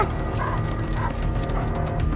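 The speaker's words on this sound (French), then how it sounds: "Un autre animal? Je sais pas. Le chien." Dog barking in a dramatic TV scene, short yips and woofs blended into a busy soundtrack of music and background noise.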